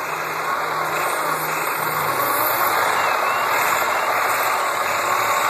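Mazda MX6 engine idling steadily during a Seafoam fuel-system treatment, heard up close as a constant mid-pitched hum with a thin high whine over it throughout.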